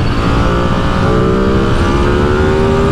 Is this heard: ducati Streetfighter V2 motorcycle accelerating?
yes